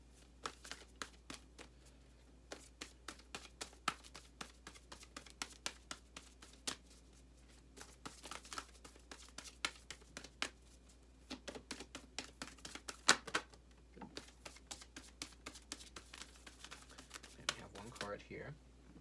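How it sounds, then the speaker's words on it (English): Oracle cards are handled and shuffled up close, giving quick, crisp flicks and riffles in uneven bursts, fairly faint, with a person speaking. "So let's get some oracle cards here and see what comes up."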